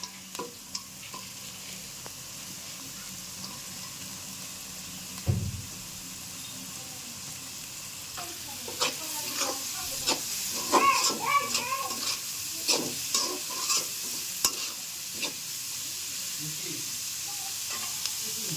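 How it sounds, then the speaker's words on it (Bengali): Carrots and egg being stirred through chicken fried rice in a hot pan, with a steady sizzle and frying hiss under scattered scraping and clattering stir strokes that bunch up toward the end. "ডিম দিয়ে সুন্দরভাবে নেড়ে চেড়ে নিয়েছি"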